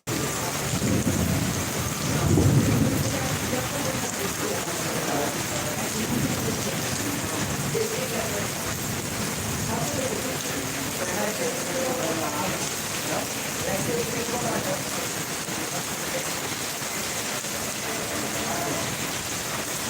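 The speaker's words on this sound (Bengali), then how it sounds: "এই যে বৃষ্টির গতি কমে গেল" Heavy rain pours steadily during Cyclone Remal, a dense broadband roar of drops on surfaces, with a low rumble of thunder early on, then constant downpour.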